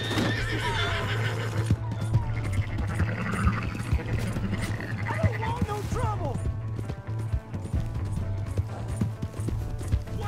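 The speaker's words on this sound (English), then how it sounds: "That's my horse." A horse in Red Dead Redemption 2 neighs and whinnies loudly amid hoofbeats and scuffling, with people talking and shouting over a low steady hum.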